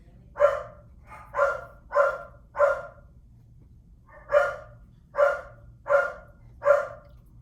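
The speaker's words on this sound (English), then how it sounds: "And there you get to listen to my dogs complain." A dog barks repeatedly, two bursts of four sharp barks with a short pause between, close and loud over low background hum.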